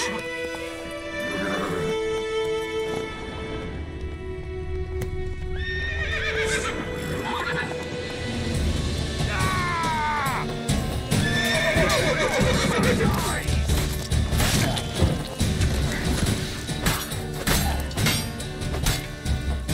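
Roach, a horse in The Witcher 3 video game, neighs and whinnies over clip-clop hoofbeats, with loud game music and effects layered throughout; the whinny rises and falls near the start before steady trotting continues.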